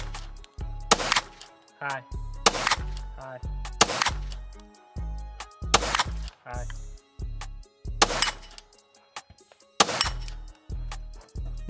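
Sharp pistol and rifle gunshots on a shooting range during timed drills, about eight loud close reports in quick pairs and singles with brief gaps between them.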